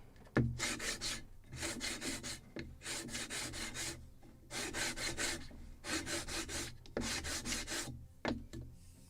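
Sandpaper rubs back and forth over a wooden part of a Model Shipways kit of the 1776 gunboat Philadelphia, close-up, in steady rhythmic bursts of rasping strokes separated by short pauses.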